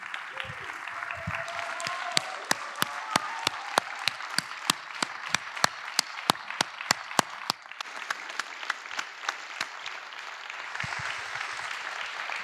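A cinema audience at a film Q&A applauds to welcome the directors Maureen Fazendeiro and Miguel Gomes; a wash of crowd clapping runs throughout, with one nearby person's sharp, evenly spaced claps standing out loudly for several seconds before fading.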